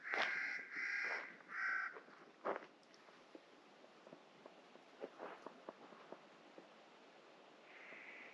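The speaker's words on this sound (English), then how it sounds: "The gray jays make some pretty weird noises." Gray jays call near a lake campsite: a few loud, harsh, drawn-out calls come first, then a scattering of fainter, short chips and clicks over quiet background.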